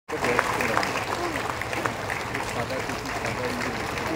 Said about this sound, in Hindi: हम जोरदार ताली बजाते रहे